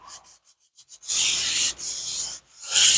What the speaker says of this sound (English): Then you're going to get you some sandpaper, 120 grit. I'm just going to sand it